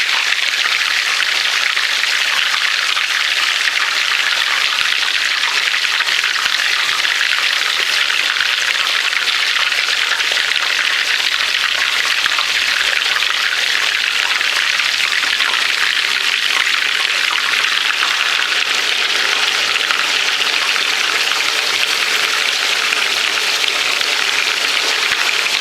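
Three pork chops, Puerto Rican style chuletas fritas, sizzle in hot oil in a pan with a steady, loud, crackling hiss that holds evenly for the whole stretch, with no talk.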